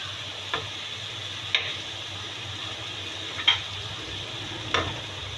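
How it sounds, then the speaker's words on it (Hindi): Stuffed apple gourd frying in a pan with salt and green chillies, a soft continuous sizzle with a few sharp stirring clicks and scrapes spaced out across the clip. "थोड़ा सा इसको भून लें हम।"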